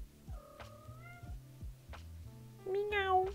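A cat meows a few times, moderately close, with short rising calls ending in a louder, drawn-out meow over quiet background noise.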